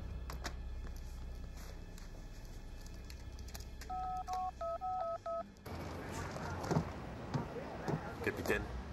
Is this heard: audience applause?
no